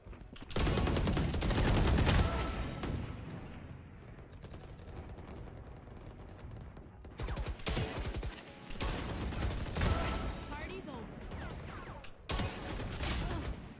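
Gunfire from the Marshal sniper rifle in the video game Valorant, heard as dense bursts of shots and loud game action in several clusters, with busy mechanical effects between.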